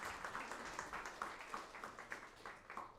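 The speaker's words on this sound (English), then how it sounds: "another round of applause" Audience applause at a report launch event, a quick run of distinct claps from a modest crowd, fairly faint and even throughout.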